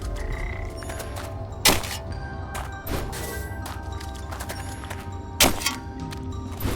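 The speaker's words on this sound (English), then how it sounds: "It's a frog! Get the frog!" A frog in the video game Wytchwood croaks in quick, repeated rattling calls over steady background music, cut by two sharp loud hits.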